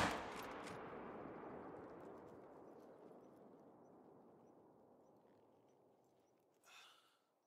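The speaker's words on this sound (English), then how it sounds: "Take a shot on this yak right here." A single loud rifle shot rings out in theHunter: Call of the Wild as a hunter fires at a yak, the sharp crack followed by a long fading echo and a faint second report near the end.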